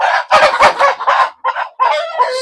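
A large tiger rooster on a poultry farm gives a close, loud burst of crowing and clucking in several separate calls.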